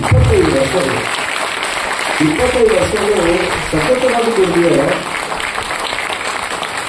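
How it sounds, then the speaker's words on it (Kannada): Audience applause at a light-music academy singing event: a steady broadband clapping wash runs through the whole stretch beneath someone speaking over a microphone. "ಜೋರು ಚಪ್ಪಾಳೆ ಕೊಡಿ ಸರ್"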